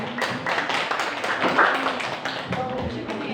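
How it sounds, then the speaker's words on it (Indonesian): Applause at an elementary school meeting, a short burst of scattered hand claps from a small group in a room, with voices murmuring underneath. "beri tepuk tangan untuk Komisi 2"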